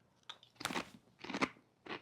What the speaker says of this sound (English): watch me eat potato chips